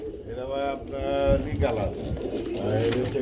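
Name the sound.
pigeons cooing at a pigeon market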